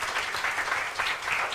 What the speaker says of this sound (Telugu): చప్పట్లు కొట్టి దేవుని కనపడుద్దాం.